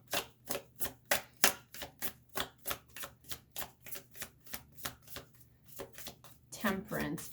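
Repeated riffling shuffles of a tarot deck in quick bursts, about a dozen crisp flutters in steady rhythm, with a voice briefly joining near the end.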